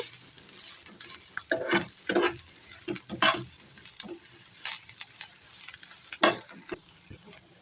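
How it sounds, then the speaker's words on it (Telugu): A spoon stirs tender tamarind leaves with onion and coconut as they fry in a pan. Irregular scraping strokes and clicks rise over a soft, close sizzle. "మనం వేసుకున్న చింత చిగురు కూడా చక్కగా అటు ఇటు కలిసేలాగా ఇట్లా తిప్పుకోవాలి"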